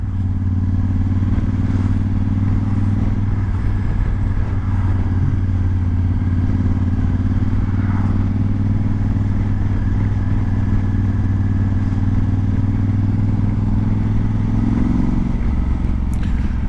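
Motorcycle engine droning steadily while riding on the road, a close, continuous mid-pitched hum with slight rises and falls in revs and some wind rush throughout.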